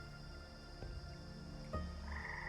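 Frogs croak in a giant sewer soundscape, deep repeated croaks standing out clearly over a constant droning, humming ambience, with one loud croak near the end.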